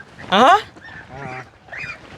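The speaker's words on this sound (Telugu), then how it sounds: "భయపడుతున్నాయి బాతులు కా బాతులు" Frightened ducks honk nearby: one loud, harsh honk comes first, then two fainter, shorter calls follow.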